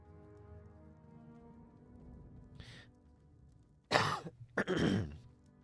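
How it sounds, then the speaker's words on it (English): A lingering cough from someone recovering from an illness. A faint throat sound comes first, then two close, harsh coughing bursts in quick succession near the microphone, with a quiet room tone beneath. "Still have a bit of a cough."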